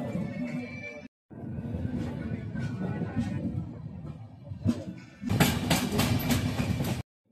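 Passenger train pulling out of Chimidipalli station on the scenic Visakhapatnam to Araku Valley line, a steady close rumble of wheels and carriages with rhythmic clatter, briefly cut off, then swelling louder toward the end.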